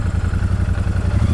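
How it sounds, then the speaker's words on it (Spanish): A 2023 Royal Enfield Super Meteor 650 twin-cylinder cruiser engine idles nearby with a low, loping, uneven throb that pulses steadily throughout. "El sonido es bastante discretito, pero bueno, suena bicilíndrico."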